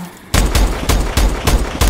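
Hip-fired gun bursts in Call of Duty: Advanced Warfare, beginning after a brief quiet moment, then five loud, punchy shots at a steady rhythm, close and dominant.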